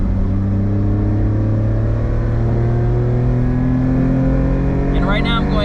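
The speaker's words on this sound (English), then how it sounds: "Here's a better sound of the ITBs." A Honda Beat fitted with individual throttle bodies accelerates on the road, its engine note climbing steadily in pitch as a loud, continuous intake drone fills the cabin.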